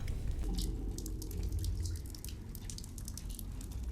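Water drips and trickles steadily in a horror film scene from The Curse of Sleeping Beauty, a continuous close wash of splashy droplets over a low background rumble, with no voices.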